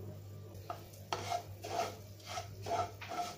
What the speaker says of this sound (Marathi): हे बघा याच्यामध्ये तूप आता गरम झालेलं आहे. आता आपण हा रवा आहे ना तो घालूया.